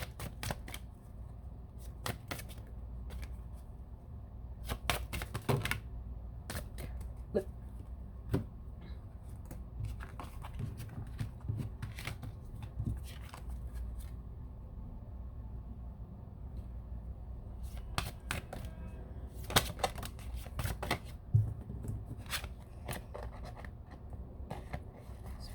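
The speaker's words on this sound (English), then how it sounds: "One more shuffle." A deck of tarot cards is shuffled repeatedly during a reading, giving soft riffling bursts and scattered taps and clicks over a quiet background.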